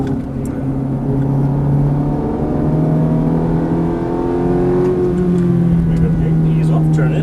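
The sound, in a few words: Ferrari F430 engine accelerating out of a corner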